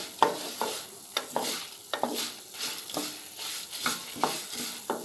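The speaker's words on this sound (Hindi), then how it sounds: "देखिए आवाज़ भी आ रही है, चिलीज अभी फ्राई हो चुके हैं।" Chilies, coriander seeds and spices fry in a pan for fresh mint pickle, giving a continuous close sizzle broken by repeated scraping strokes of a spoon stirring through the mix.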